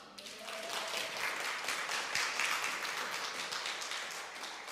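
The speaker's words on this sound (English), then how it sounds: "It's okay to clap." Applause from a church congregation, a dense and steady wash of clapping that lasts throughout at moderate level, with no talking over it.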